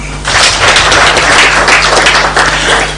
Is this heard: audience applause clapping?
yes